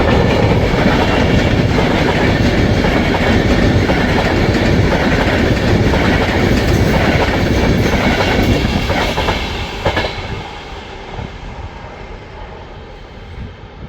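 Two Pendolino trains pass at speed through Ardwick station, a loud continuous rush of rolling wheels and rattling carriages with clickety-clack beats that eases off toward the end as the trains move away.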